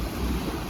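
Sea waves surging against the shore at Fort Kochi, Kerala, a steady broad wash of surf and wind noise with no distinct individual crashes, continuous and close over a short stretch.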